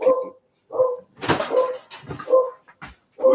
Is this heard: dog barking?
yes